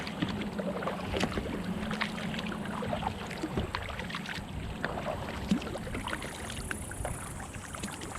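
Paddling an 11-foot homemade foam and fabric kayak into the wind on a park lake, heard as repeated splashes and drips of paddle strokes over a steady wash of wind.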